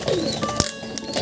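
Racing pigeons coo and flutter close by inside a loft, a busy cluster of soft murmuring calls with a few sharper chirps in a short burst.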